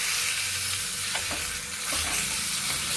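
Chicken liver sizzles and fries in a pan while being stirred, with scattered sharp pops and scraping under a steady hiss, close and fairly faint.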